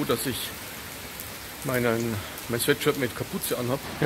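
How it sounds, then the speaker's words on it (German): Heavy rain falls steadily outdoors, a constant hiss beneath someone speaking German close by. "Durch den momentan starken Regen hat es noch ganz schön abgefrischt"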